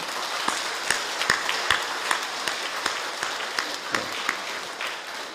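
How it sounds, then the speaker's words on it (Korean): A Korean church congregation claps for two members during a sermon, a moderately loud spread of many hands with some sharp individual claps standing out, steady for several seconds. "우리 성도들은 크게 박수 한번 쳐주시기 바랍니다"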